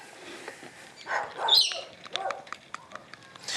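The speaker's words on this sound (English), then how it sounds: "Apologies for the dog in the background." A dog barks in the background at a coastal foraging spot, several short sharp yips scattered across a few seconds amid outdoor ambience, moderately loud but not close.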